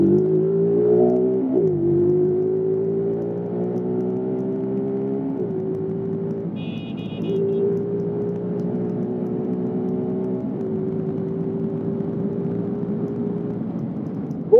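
A motorcycle engine drones steadily while being ridden, a close, continuous hum whose pitch dips and resettles at a few gear changes, running on for around fifteen seconds with no talk.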